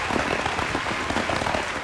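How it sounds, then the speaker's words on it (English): A round of applause from a small group, a continuous crackling wash of claps held at moderate level for nearly two seconds, with no voices on top. "have a round of applause"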